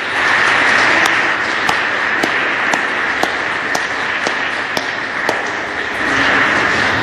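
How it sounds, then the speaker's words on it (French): A congregation at a family Mass in a Lorient church applauds, a broad, even wash of clapping that carries through the reverberant space, punctuated by a few sharp distinct claps. "Pour eux, on peut leur dire merci et même les applaudir."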